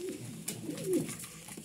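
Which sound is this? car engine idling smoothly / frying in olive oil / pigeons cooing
pigeons cooing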